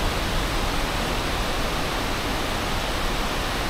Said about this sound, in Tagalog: Narating na rin natin yung Tapia Waterfalls